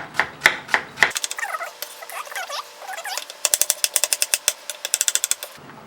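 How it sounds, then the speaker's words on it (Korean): Zucchini sliced thinly with a knife on a cutting board for jjamppong, close rapid rhythmic chopping in two runs of sharp knocks separated by a short pause. "호박은 좀 얇게 썰어 놓습니다."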